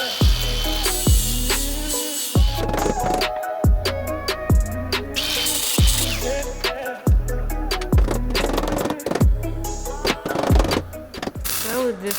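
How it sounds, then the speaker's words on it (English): A power tool cuts away excess metal from a car's transmission tunnel during fabrication. It sounds as repeated loud bursts of grinding and cutting, each starting and stopping in an uneven rhythm, with a voice speaking between some cuts. "At the right there's still too much metal, so I have to cut it off."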